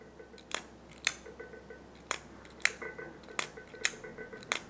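A Spyderco folding knife is worked open and shut, giving a series of crisp, light clicks at an irregular pace, close up in a quiet room.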